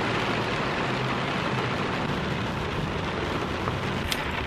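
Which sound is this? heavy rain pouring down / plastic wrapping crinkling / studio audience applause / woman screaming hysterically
heavy rain pouring down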